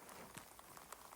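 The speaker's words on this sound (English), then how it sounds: "This is now classified as rain." Light rain patters on surfaces outdoors at Kane Springs, Arizona, in January, a soft continuous hiss dotted with scattered drop ticks, faint and steady.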